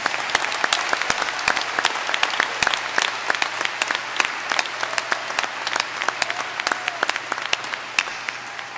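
A commencement crowd applauds the new doctors, with scattered individual sharp claps standing out over a steady bed of clapping that lasts several seconds, with no speech.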